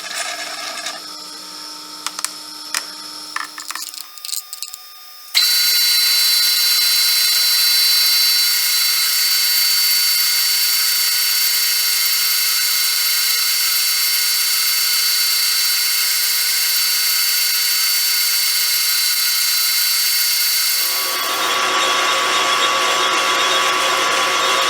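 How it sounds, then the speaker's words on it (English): Steel bar being parted off on a lathe, building a crank pin for a PM Research No. 4 Quarter Horse engine with coolant flowing: a steady, loud broadband hiss with a high whine runs unbroken for about fifteen seconds before easing off. "parting off on steel just seems a little easier with some coolant"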